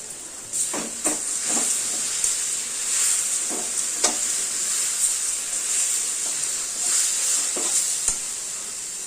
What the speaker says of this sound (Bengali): জিরের গুঁড়ো দিয়ে একটু ভাজা ভাজা করবো